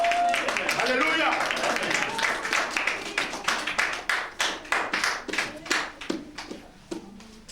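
A church congregation claps along in rhythm while acclaiming the Lord, the steady hand claps growing sharper and more evenly spaced, with a voice singing over the start.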